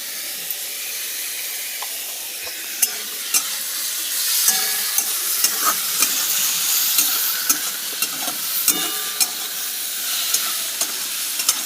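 Sliced bitter gourd frying in mustard oil with salt and turmeric, a dense, steady close sizzle with frequent sharp clicks from a utensil stirring in the pan throughout.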